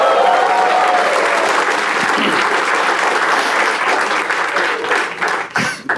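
A stand-up comedy audience breaks into loud, dense applause that carries for several seconds and then thins out near the end.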